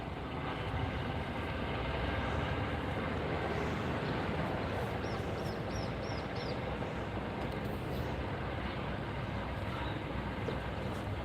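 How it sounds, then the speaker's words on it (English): A helicopter idles at a Thai airport before taking off, heard as a steady, continuous low rumble and broadband roar from a distance, with a few faint high chirps over it. "You hear the helicopter getting ready to take off from the airport."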